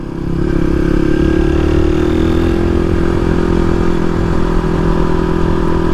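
A Yamaha WR enduro motorcycle passes close on a road, its loud mid-pitched engine drone holding steady and shifting slightly in pitch as it goes by.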